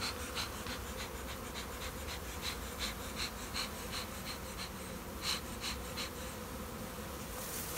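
A hive of honeybees buzzes in a constant, moderately loud swarm-like hum, steady throughout with faint repeated clicks and no one talking.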